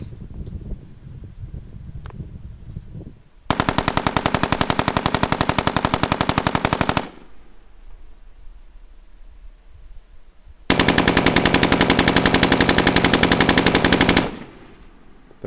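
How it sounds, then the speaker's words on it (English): A PKM machine gun fires two sustained automatic bursts of rapid, loud, evenly spaced shots, each lasting several seconds. Quieter wind-like background noise surrounds and separates the bursts. "We're gonna do one long burst from position one with the PKM."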